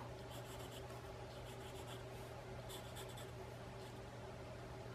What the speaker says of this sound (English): I'm just using a number 2 or a B pencil.